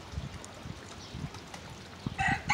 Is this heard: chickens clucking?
yes